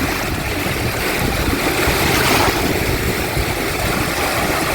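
Waves wash onto a white-sand Gulf of Mexico beach, a loud, continuous rushing wash of surf that swells slightly mid-way, close by and with no voices.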